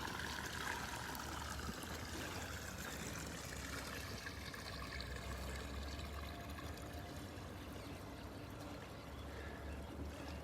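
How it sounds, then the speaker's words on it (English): Water flows out from excavations in a continuous broadband rush and trickle, steady and moderately close, with no talk. "This is all the water coming out, still coming at the end of August, in the last week of August, coming out from the excavations"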